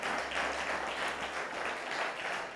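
Congregation at a Spanish-language church service clapping hands loudly and continuously, a dense, even applause close by.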